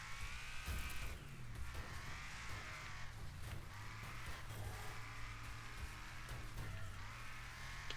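A Reliant Robin races in the Wreckfest video game, its small engine whining steadily with rising and falling revs, plus occasional thumps and scrapes. The sound runs continuously throughout, with no voices.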